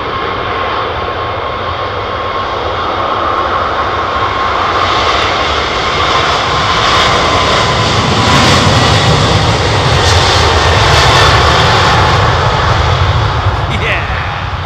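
Loud, sustained roar of a Boeing 777's jet engines at London Heathrow, close-up, the airliner still making rudder corrections; a broad steady rumble with a rising whine swelling toward the end, with a voice talking over it.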